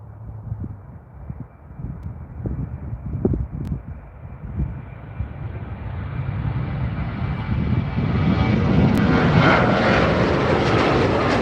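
A WestJet airliner departs from runway 35R at Calgary Airport, its engine roar building steadily from a distant rumble into a loud, broad jet roar that grows nearer throughout.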